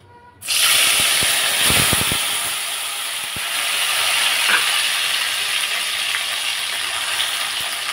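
Tomato purée and onion paste dropped into hot oil for a ghee chicken fry, bursting into a loud, steady sizzle after a brief silence, with crackling pops early on and a sustained hiss to the end.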